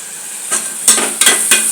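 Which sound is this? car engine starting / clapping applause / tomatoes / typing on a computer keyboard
tomatoes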